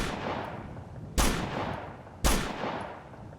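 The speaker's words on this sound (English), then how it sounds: "So I'm just shooting in the general direction of where I see" Two sharp, loud rifle shots about a second apart in the military shooter Operation Flashpoint: Dragon Rising, each decaying into a rumbling tail over steady background battlefield noise.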